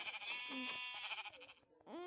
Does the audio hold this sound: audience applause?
no